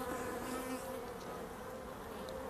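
Honeybees hum steadily around an opened hive while frames are lifted and handled, a dense, moderately faint buzzing with no talking over it.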